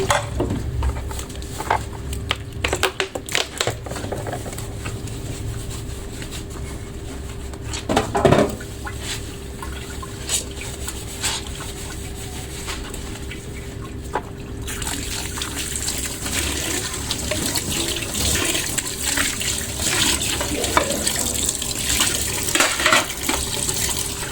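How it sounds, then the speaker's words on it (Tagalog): Dishes are washed under a running tap in a boarding-house kitchen: a continuous splash of water with scattered clinks and knocks of plates and pans, growing louder and busier toward the end. "Maghuhugas naman tayo ng pinggan ngayon."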